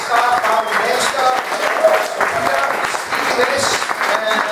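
A crowd at a Govanhill Baths show keeps clapping in a thick, continuous wash of applause, loud and close, with voices and calls threaded through it.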